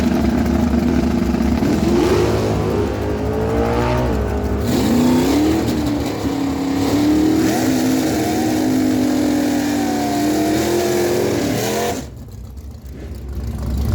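At a drag strip, a 1970 Dodge Challenger with a 426 big block Hemi races a 1988 Ford Mustang with a 351 small block Ford. Loud, close engine roar with rising revs and gear changes for about twelve seconds, then it drops off sharply.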